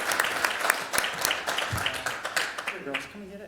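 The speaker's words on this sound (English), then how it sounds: "let's give her a huge round of applause." Applause breaks out at a city council meeting for an honoree, a full crowd clapping briskly and loudly, with voices beginning to talk over it as the clapping tapers off at the end.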